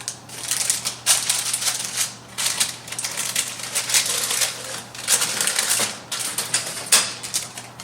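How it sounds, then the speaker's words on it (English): Apple and grape fruit leather peeled slowly off baking paper, a long run of close, dry crackling and tearing rustles that swell and fade in bursts over a faint steady low hum. "And again, it just pulls away from the paper."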